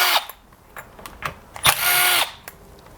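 A power driver with a T27 Torx bit removes screws from a STIHL 026 chainsaw, giving short close whirring bursts and one longer spin among light metallic clicks, with no talk.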